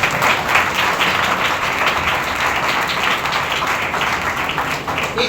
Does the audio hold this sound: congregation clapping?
yes